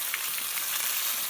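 A Kona coffee-crusted lamb rack sizzles loudly and continuously in a hot pan as it is flipped, a dense crackling hiss with no voices.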